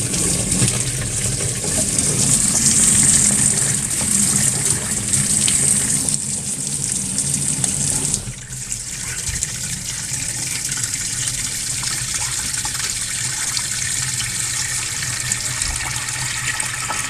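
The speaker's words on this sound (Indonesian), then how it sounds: "ini saya kasih air sampai menutupi baut di spin" Water gushing steadily into the tub of a Sharp PureMagic ES-T70MW washing machine, a loud continuous rush that drops slightly in level partway through and carries on unbroken.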